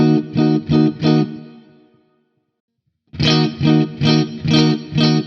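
Clean electric guitar tone from the fourth preset of a BT Arkon 50 pedal, with chorus-like shimmer: strummed chords pulse rhythmically, ring out and fade to silence, then resume loud and steady with no talking.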